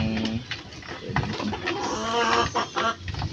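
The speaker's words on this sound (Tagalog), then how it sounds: "ito mga kamanok, ito ang ating straight breed ng male sims" Male straight-breed chickens, gamefowl kept in a backyard, clucking and murmuring close by in a busy overlapping run of short calls.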